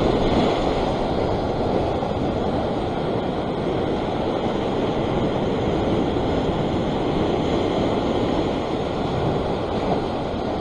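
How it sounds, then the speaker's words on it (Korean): Steady broadband roar of surf and waves, continuous and fairly loud, with wind rushing across the microphone throughout; no voices. "어우, 파도."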